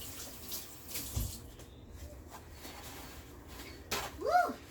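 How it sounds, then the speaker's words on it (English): Hands are washed under a running kitchen tap while making cheesecake, with a soft hiss of water, light splashes and a few clinks, moderately near and fairly quiet. "Wash my hands."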